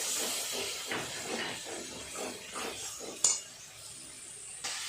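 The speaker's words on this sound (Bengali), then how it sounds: "অল্প একটু জল দিয়ে মশলাটা কষিয়ে নিন।" Spice paste of ground melon seeds and cashew with salt, sautéing in a pan with a splash of water for a cauliflower and potato curry, a steady soft hiss and sizzle with faint utensil clinks and a sharp clink near the end.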